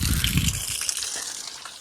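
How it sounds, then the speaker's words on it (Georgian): Piped spring water gushes steadily from an outdoor outlet, a brief close rush of flowing water with no talk over it. "ეგერ წყალიც მოდის"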